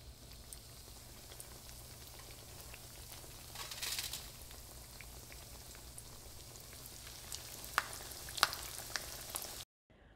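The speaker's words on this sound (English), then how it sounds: "Once this oil heats up, we will pan fry this chicken on each side." Sizzling from chicken pan frying in hot oil, a continuous crackle with scattered pops growing more active toward the end.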